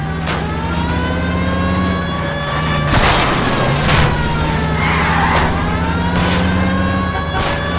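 Period car engine revving and accelerating hard during a police chase in L.A. Noire, a steady drone with rising whines and a siren wailing, plus a few sharp clanks and crashes along the way.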